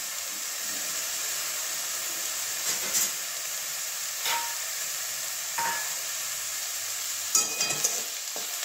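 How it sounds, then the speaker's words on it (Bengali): Fenugreek greens are stirred in a pan until their water dries off, giving a soft continuous sizzle and hiss with a few sharper scrapes of the spatula spaced several seconds apart. "ততক্ষণ নাড়াতে থাকবো, কারণ মেথি শাক তো খুচিটা হয়, এই জন্য একটু ভালো করে জলটা শুকিয়ে নেব"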